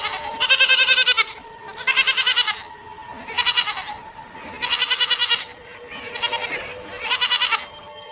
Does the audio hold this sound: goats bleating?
yes